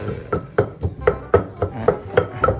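Curry paste ingredients pounded in a mortar, steady thudding strikes, roughly ten evenly spaced blows, close and fairly loud with no talk.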